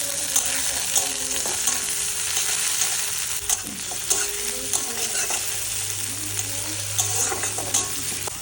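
Tomato and green chilli fry in hot oil for a fish curry, with a loud, steady sizzle and the occasional scrape of stirring close by, no talking.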